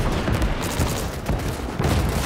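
Heavy artillery and gunfire barrage in the Gates of Hell World War II game, aimed at a Panzer IV tank: dense, continuous booming blasts and rattling shots, loud and close, with no talk.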